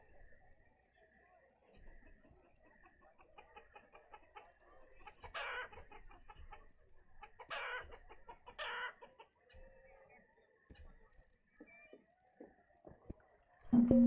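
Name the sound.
chickens clucking in the video game Banished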